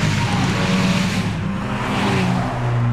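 A Škoda Octavia RS 230 engine roars with a deep, throaty note from its special performance exhaust system, holding steady then shifting pitch as it passes by.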